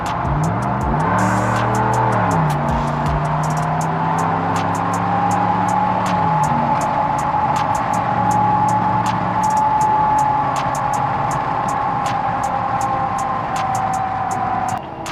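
2019 RAM 1500 pickup with a new aftermarket air intake revving up, engine rising and falling at first and then settling into a loud sustained drone, heard steadily up close for about fifteen seconds.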